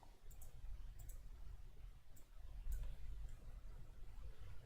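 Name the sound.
computer mouse clicks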